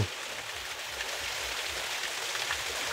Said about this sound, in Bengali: এই যে দেখছেন জঙ্গলের মধ্যে এই ঝর্ণা, এই ঢাঙ্গি কুসুম যে ঝর্ণা